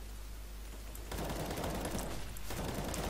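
Rapid gunfire from Counter-Strike: Global Offensive rattles in dense continuous bursts, growing louder and busier midway, with no talking.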